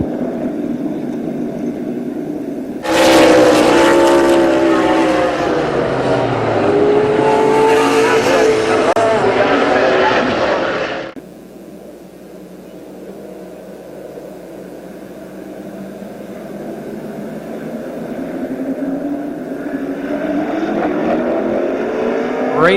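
Race cars circulate under caution at Columbus Motor Speedway, engines roaring loud and steady for several seconds before dropping to a quieter distant drone, then building again toward the end.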